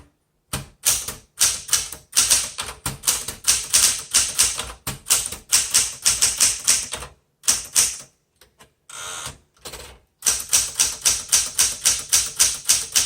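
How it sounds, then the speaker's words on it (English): A 1969 Smith Corona Classic 12 manual typewriter being typed on: loud, close, rapid bursts of crisp key strikes in quick runs, broken by short pauses and a brief carriage movement. "the Classic is one that I always recommend. It's a great typewriter."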